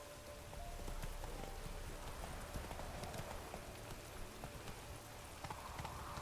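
Roach, a horse in the video game Witcher 3, galloping: continuous quick clip-clop hoofbeats over a rough ambient bed, steady and fairly faint.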